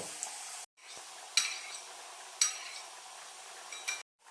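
Garlic frying in a pan gives a bright, fairly quiet sizzle broken by brief gaps, with a couple of sharp clinks of a utensil against the pan and light stirring scrapes.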